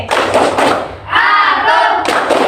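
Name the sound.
class doing a rhythmic concentration clap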